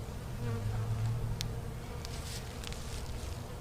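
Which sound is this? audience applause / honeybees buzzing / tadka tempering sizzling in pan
honeybees buzzing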